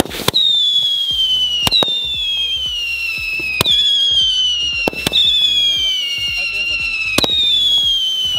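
A steady, smooth rumble of a Japanese bullet train in motion near Kyoto runs throughout, with a person talking over the constant hum.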